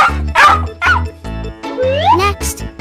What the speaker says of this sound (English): Dog says woof woof.